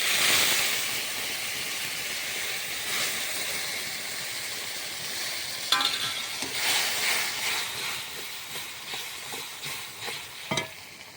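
Boiled masoor lentils poured into a fried spice paste with dried chilli, a loud hissing sizzle that slowly settles, followed by scattered stirring scrapes and knocks against the pan, close up with no talking.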